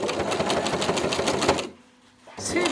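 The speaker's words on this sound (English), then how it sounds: "I sew very slowly along, make sure that the needle stays in" A sewing machine runs slowly and steadily, stitching along the fabric ties of a face mask. The needle rattles evenly, stops briefly, then starts again, close and fairly loud.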